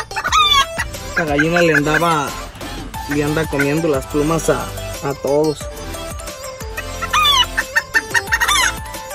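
Hens and a rooster in a small backyard breeding coop give loud, close clucks and rising calls in bursts, while someone talks between them.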